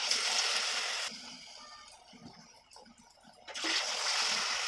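Taro fritters (bora) drop into hot oil in a wok and set off a loud, steady sizzle and crackle that fades briefly, then surges back to a bright hiss.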